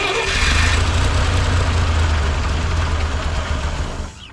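A 1958 Lull cherry picker that has sat for 15 years cranks over without catching, a loud, steady low mechanical churn running for about four seconds before cutting off.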